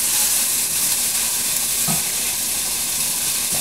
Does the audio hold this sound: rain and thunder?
no